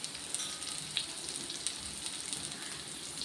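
Pirandai (adamant creeper) sautéing in a pan, a steady close sizzle and crackle with a few sharper pops, running alone with no voices.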